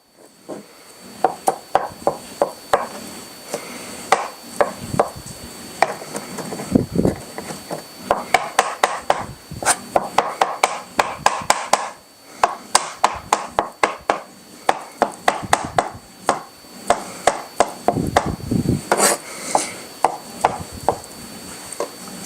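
Boiled potatoes being chopped for potato salad, a steady run of close, crisp knife taps on a cutting board coming in quick bursts with brief pauses.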